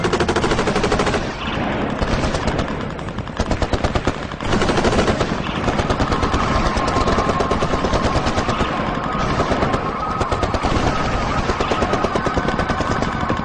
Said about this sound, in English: In a matter of seconds, a hurricane of bullets.